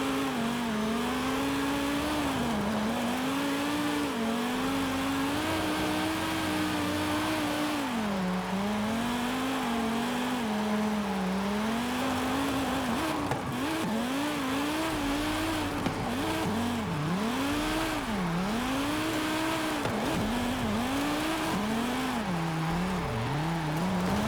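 A drift car's engine revs and wails in Forza Horizon 5, the pitch rising and dropping as it slides, with tire squeal and faint classical music underneath, loud and continuous for the whole stretch.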